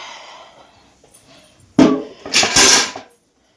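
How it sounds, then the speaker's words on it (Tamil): Dishes and pots clatter and scrape close by, with a couple of bursts of clinking and splashing, then the clatter stops. "இப்போ உட்காந்து பாத்திரம் கழுவ வேண்டியதுதான்."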